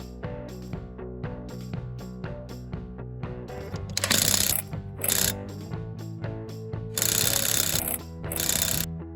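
Ratchet wrench tightening the wheel nuts while refitting a rear wheel on a Citroën LNA after a rear drum bearing change, rapid repeated clicking bursts, close and loud, alternating with pauses, no talking.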